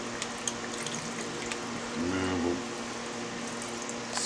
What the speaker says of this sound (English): we're going to let this drain off as much of the liquid as we can